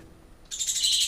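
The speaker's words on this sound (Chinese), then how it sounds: "小鸟" A small bird gives rapid high chirping calls, starting abruptly after near silence and continuing close and fairly loud.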